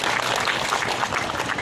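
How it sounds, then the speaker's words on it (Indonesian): A crowd applauds the governor of Sulawesi at an agriculture ministry visit event, a short burst of dense, even clapping, fairly loud and close, with no speech over it. "Sahabat saya, Gubernur Sulawesi, tepuk tangan untuk beliau."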